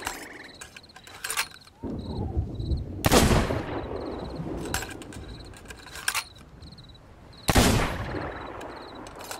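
Gunshots in the video game Sea of Thieves, a few sharp loud blasts several seconds apart, each followed by a short clatter, with faint game ambience in between.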